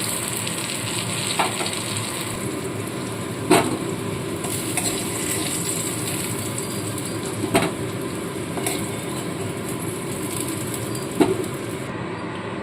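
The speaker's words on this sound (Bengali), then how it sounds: "সামান্য নুন আর হলুদ দিয়ে আলুগুলোকে ভেজে নিচ্ছি" Potatoes fry in oil with salt and turmeric, a continuous close sizzle broken by a few sharp clinks of a utensil stirring against the pan.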